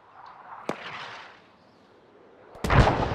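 Mortar explosions in the video game Arma 3: a sharp single blast with a rumbling tail, then after a lull a second, louder and closer impact that booms and rolls on.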